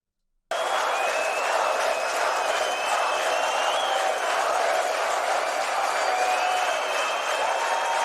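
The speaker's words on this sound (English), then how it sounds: "It's just the crowd applauding." A concert crowd applauds at the close of a song: dense, steady clapping and cheering that starts abruptly and holds at an even level throughout, distant and wide.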